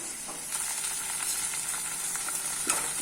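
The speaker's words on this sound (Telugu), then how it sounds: "ఇప్పుడు మెంతికూర ముక్క వేసుకోవాలి ఈ విధంగా పచ్చివాసన పోయేంత వరకు దాన్ని ఎల్లిపాయలతోటి పాటు మగ్గించుకోవాలి" Chopped fenugreek leaves cooking with onions in an oiled pan, a steady close sizzle and hiss that holds throughout, with a few soft stirring scrapes and no talk.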